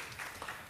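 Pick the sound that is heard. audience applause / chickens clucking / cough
audience applause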